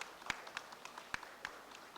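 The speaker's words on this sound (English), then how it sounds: "Please, a round of applause for everyone." Sparse scattered handclaps from a conference audience of banking and microfinance delegates, several distinct claps at irregular intervals, fairly faint and thin rather than a full ovation.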